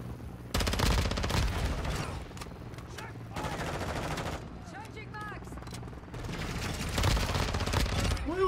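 Rapid automatic gunfire crackles through a video game shooter in several sustained bursts, loud and dense, with voices talking under the shooting.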